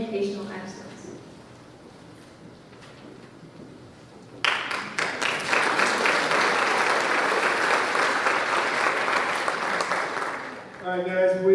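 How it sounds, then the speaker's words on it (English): Audience applause at a high school class night ceremony breaks out suddenly after a few seconds of quiet room murmur and speech, then holds loud and steady for about six seconds before tapering off as someone starts talking. "Let's hold the applause until the end."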